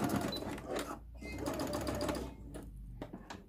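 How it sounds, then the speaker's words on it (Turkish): A sewing machine stitches elastic casing closed on children's shorts, a steady close whirring run of needle strokes with brief pauses between bursts, a quiet voice faintly audible underneath. "Lastik geçirmek için bıraktığım yerleri de dikiyorum"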